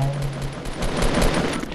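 Rapid bursts of gunfire from a Fortnite Battle Royale match, several quick shots in a loose rhythm at moderate loudness, with a voice talking faintly underneath.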